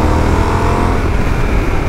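A Yamaha Tenere 700 motorcycle with an aftermarket exhaust roars loud and steady up close, a dense, continuous engine rumble with no talk over it.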